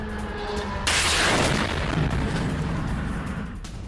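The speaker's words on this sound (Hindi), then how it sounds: "बिल्डिंग से टकराने के बाद ही ड्रोन में हुआ विस्फोट" A sudden loud explosion as a drone strikes a building at night in Kharkiv bursts out after a low hum and leaves a long rumbling roar that slowly fades.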